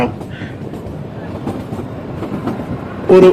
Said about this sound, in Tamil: இப்போ பாருங்க ட்ரெயின் உள்ளே போகுது.